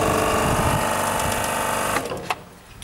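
A worn-out fan motor on an old Prestcold refrigeration unit runs with a rough, rapid mechanical chatter and hum, loud and close, then cuts out and winds down near the end.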